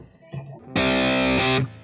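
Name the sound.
electric guitar through Waves GTR3 amp with light tube-screamer-style drive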